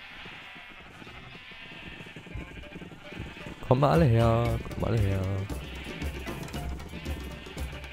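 Sheep bleat loudly in Minecraft, two long wavering bleats rising close over a background of game music, while a man calls out over the scene.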